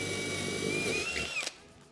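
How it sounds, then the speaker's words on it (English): A power drill bores pilot holes in wooden grip boards for a DIY Jeep rear plate, one steady high motor whine running close and loud before it cuts off abruptly near the end. "I pre-drilled where the holes would go so not to accidentally misalign them to the holes in the slide mount"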